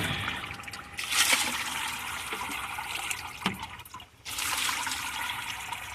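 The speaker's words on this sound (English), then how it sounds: "Rinse these off real good because they got a lot of grit on them still" Water runs and splashes over tumbled jasper stones as grit is rinsed off, a steady close rush with a few louder surges and a short dip midway.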